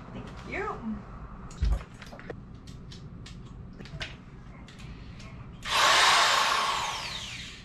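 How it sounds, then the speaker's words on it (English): A power drill whirs while curtains are being hung at home, one loud burst that starts hard and fades over about two seconds, after quieter clicks and handling noises, with people talking before it. "It's a power drill for me."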